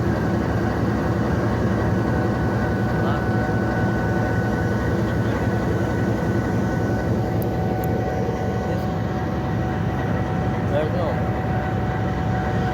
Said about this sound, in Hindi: ट्रेन जो है डेरा मुराद जमाली से मूव हो रही है।